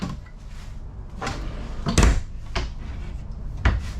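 Drawers slide and thud shut a few times at close range, with light rattling between the knocks.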